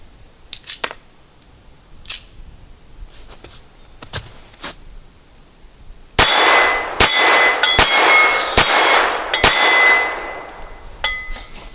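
A Ruger LCP II .22 pistol firing Winchester rounds: after a few quiet clicks, five loud, sharp shots come in quick succession, each leaving a bright metallic ring.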